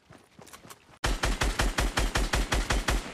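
A Fortnite gun fires a steady rapid burst of about a dozen loud, evenly spaced shots after a quieter opening of faint, distant fire.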